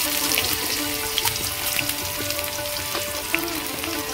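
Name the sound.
chopped onion frying in hot oil with cumin seeds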